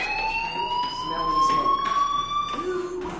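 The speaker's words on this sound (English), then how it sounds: "Hey, do you hear that fire alarm?" A fire alarm rings in the video game Life is Strange, a steady electronic tone with bright harmonics that holds throughout, fairly loud and continuous.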